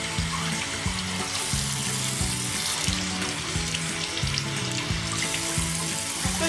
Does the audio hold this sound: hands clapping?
no